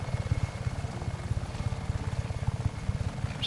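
Helicopter in the video game Just Cause 3, its rotor giving a loud, steady rhythmic thumping throughout with a continuous engine drone.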